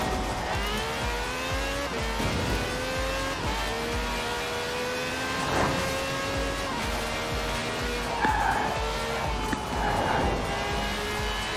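A King Cobra from the Barrett-Jackson car pack in Forza Horizon 4 roars steadily, its engine pitch climbing and dropping through gear changes, with bursts of tyre squeal as it corners.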